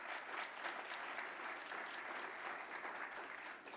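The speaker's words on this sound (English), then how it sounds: "Please give Cameron a round of applause." A conference audience claps steadily for several seconds, a dense, even applause with no voices standing out.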